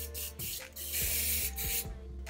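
Hairspray hisses from an aerosol can, sprayed upward onto hair from below for volume, in several long bursts with brief gaps, close and fairly loud with no talking.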